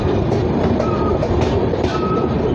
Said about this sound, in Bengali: এই ট্রেনটা কিন্তু টাইম মতোই চলছে।